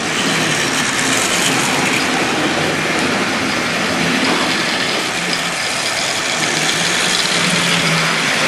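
A Hornby Triang model locomotive from a Rovex box set runs on Peco track with a continuous close rattling hum and fine clicking over the rail joints, steady and loud throughout, with no talk.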